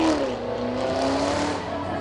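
A car rolls past during a vintage car parade in Chinon, its engine note steady and fairly close, with a broad rushing roar and faint tonal whine throughout.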